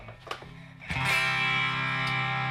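A Hondo H77 electric guitar played through a Digitech Element with a little reverb. It starts with a few muted picked notes, then a loud sustained distorted chord rings out and hangs, close and alone.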